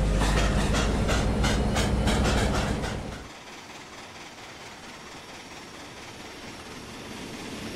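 Train in the Trainz railway simulator game runs with loud rhythmic rail clatter and a rumbling engine, which fades after about three seconds to a quieter, steady rolling hiss.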